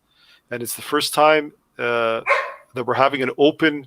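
A dog barks several times close by while a person keeps talking over it.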